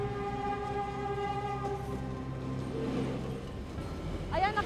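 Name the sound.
train passing on the rail crossing in Bangkal, Makati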